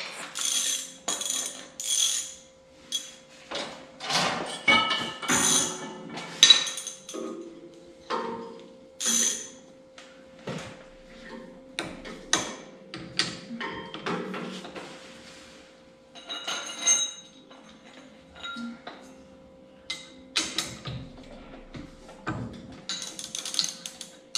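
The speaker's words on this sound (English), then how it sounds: "So I'll have to get me a couple wrenches and we'll mess around with that." Wrenches clink and ratchet against metal while adjusting the tie rod on the front end of an 856 tractor, with irregular clicks and metallic knocks repeating steadily at close range and no talk.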